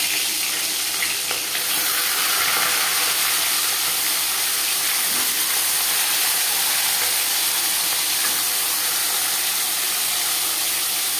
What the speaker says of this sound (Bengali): এবার দিয়ে দেব লবণ হলুদ মেখে রাখা মাছের মাথা।